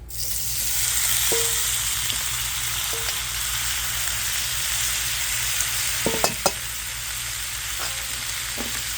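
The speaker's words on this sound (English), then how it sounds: "we're going to get our pork and our veggies in" Pork and vegetables fry in a hot pan, a constant close sizzle running the whole time, broken by occasional light scrapes and knocks of stirring, with no talking.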